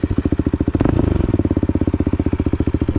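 Bullit Hero 250cc motorcycle engine running with its exhaust baffle removed, a loud, close, steady idle with rapid even thumping pulses and a brief blip of throttle near the start.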